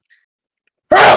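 One sudden, loud, close sneeze bursts out of near silence and cuts off abruptly, standing alone without talk.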